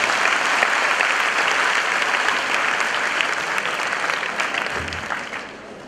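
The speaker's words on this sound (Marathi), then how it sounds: "मला वाटतं टाळ्या वाजवायला पाहिजे एवढं सगळं बोलल्यावर." Audience applause at the inaugural function of a student parliament, a dense sustained burst of many hands clapping, loud and close, tapering slightly at the end.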